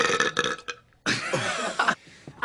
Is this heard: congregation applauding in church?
no